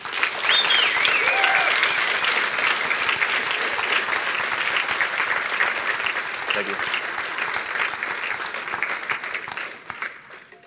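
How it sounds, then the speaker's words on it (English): An audience applauds after a presentation, sustained clapping that fades out over about ten seconds, while a voice speaks briefly over it near the start. "Thank you for the round of applause."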